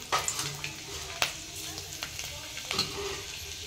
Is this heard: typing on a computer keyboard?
no